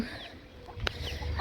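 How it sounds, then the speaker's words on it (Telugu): Chickens cluck softly nearby a haystack over a faint outdoor background, with a sharp click in the middle and louder clucks toward the end. "గడ్డి కుప్ప కోళ్ళు"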